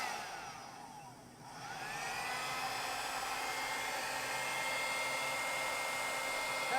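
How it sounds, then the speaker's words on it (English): A hair dryer blowing acrylic paint, its motor winding down briefly then spinning back up into a steady high whirring rush of air, close and alone. "I'm going to try one more time with the hair dryer."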